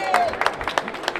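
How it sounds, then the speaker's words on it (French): Scattered hand claps come in a sparse, uneven rhythm from a small audience at a Comic Con stand, heard close. A faint tone slides down at the start. "On peut l'applaudir quand même."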